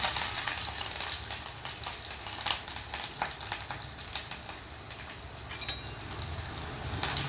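Garlic, dried red chillies, curry leaves and cumin fry in hot oil, giving a steady close crackling sizzle with small pops and occasional stirring scrapes throughout, no voices.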